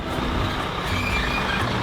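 Truck with its rear differential locked, driving forward off-road: a continuous, close, rumbling engine and drivetrain noise with broad roar, steady throughout with no talk.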